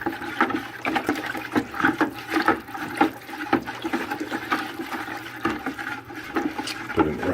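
A big wooden ladle stirs turkey brine, giving steady sloshing and swirling water with irregular splashes and knocks, close and fairly loud throughout.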